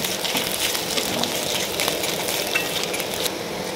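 Onions and chilies frying in a pan give a steady, close hiss and crackle throughout, with faint clinks of a utensil and no talking.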